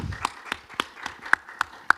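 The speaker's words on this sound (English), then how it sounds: "a round of applause for Anna." Sparse, evenly spaced hand claps from a small audience at a Wolves Summit event greet the host, about seven crisp claps over two seconds, fairly faint and without voices.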